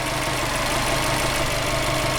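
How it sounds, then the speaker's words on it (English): A 2000 Subaru Impreza WRX STi Type R Version 6 GC8 engine idles with a slightly shaking, unbalanced pulley, giving a steady, dense mechanical hum and whir throughout, close and even, with no talking. "We got a pulley that's shaking a little bit in there."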